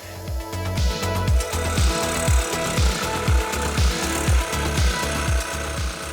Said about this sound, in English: A jigsaw is not necessarily the first tool I would go to for this project